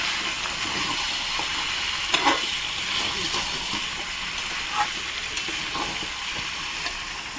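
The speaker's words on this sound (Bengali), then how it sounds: "ঢাকনাটা খুলে একবার নেড়ে দিই" Chicken curry masala sizzling and frying in a pot, with a steady hiss and scattered scraping stirs, a louder clatter near the middle, and a voice speaking over it.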